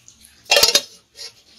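A lid set onto a pot of potato curry lands with a quick clatter of metal-on-metal clinks, followed by a faint second rattle, close and otherwise quiet.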